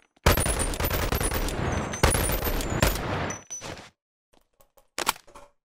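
An Uzi Pro submachine gun fires a loud, sustained rapid burst in the VR game Boneworks, followed by a few scattered clicks and one or two sharper shots after it stops.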